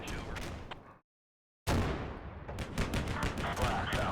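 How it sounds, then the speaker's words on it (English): Gunfire and explosive bursts from incoming artillery in the war game Combat Mission Black Sea, a dense rumbling barrage that cuts out into brief silence, then resumes with repeated sharp impacts stacking up loudly. "it looks like they've potentially got some artillery coming in here"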